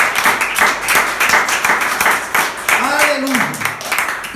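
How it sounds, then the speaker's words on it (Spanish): Applause ripples through a church congregation in rapid, uneven bursts, fairly close and loud, with a voice briefly rising over the clapping. "Ese aplauso sea para el Señor Jesús"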